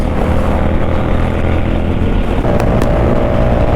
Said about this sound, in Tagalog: Nabatak ng husto yung makina ni Anjo mga Lodi.